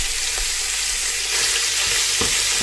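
Ground beef browning in a hot pan, a dense continuous sizzle and crackle close up, with soft scraping knocks from a spoon breaking the meat apart, no talking.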